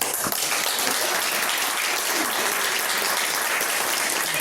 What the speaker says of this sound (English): I'd like us all to give a big round of applause to everyone.